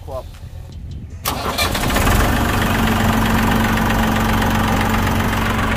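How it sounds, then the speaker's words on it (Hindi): A Massey Ferguson 241 tractor engine cranks and catches, then settles into a steady, loud diesel idle with a low rhythmic knock, while someone speaks briefly over the start. "तो आप सुन सकते हो इस ट्रैक्टर की आवाज़ और कितनी अच्छे से साइलेंट आवाज़ में चल रहा है"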